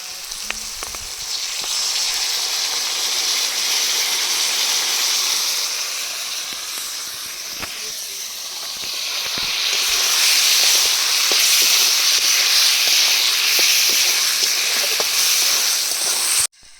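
Chilli chicken sauce mixture poured into a hot pan with fried green chillies, setting off a loud, steady sizzle and hiss that swells again and carries on strongly to the end.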